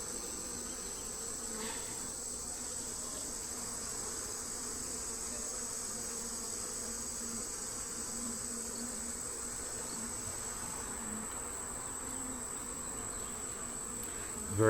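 Honeybees buzz around an open hive on a warm day, a soft, steady drone holding evenly throughout with no voices.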